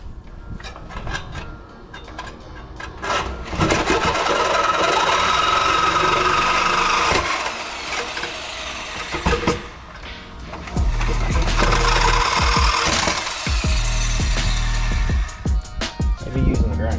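An angle grinder fitted with a new blade cuts at a metal tab on a Jeep Cherokee XJ shackle relocation bracket. It gives a loud, sustained harsh whine that dips briefly and then resumes strongly up close, with a voice talking.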